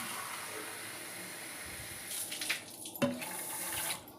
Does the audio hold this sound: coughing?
no